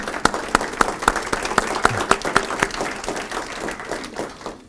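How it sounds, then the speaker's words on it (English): Audience applause at a coalition speaker series event, many hands clapping in a busy patter with a few prominent nearby claps, fading slightly toward the end. "Let's give them a round of applause"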